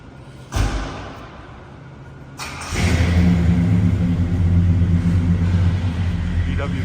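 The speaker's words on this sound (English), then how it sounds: "There's a nice custom deluxe being driven out." A classic Chevrolet-style custom deluxe car is driven out of the back area of a classic car showroom in Charlotte, North Carolina; a steady engine rumble starts and builds close by.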